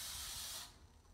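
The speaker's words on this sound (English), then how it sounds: "put a little grease and flour or use a spray" Cooking spray released onto a baking tin, one short close hiss lasting about half a second before cutting off, with no talk.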